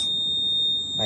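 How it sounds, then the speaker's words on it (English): A school fire alarm system's buzzer sounds as a steady, piercing high-pitched electronic tone, held continuously and fairly loud with no talk over it. "and then my buzzer will also been triggered"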